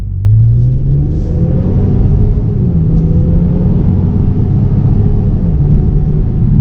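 A Ford Escape Titanium 4WD with a turbo four-cylinder accelerates, a heavy steady engine rumble from inside the car with a faintly rising tone, no voices.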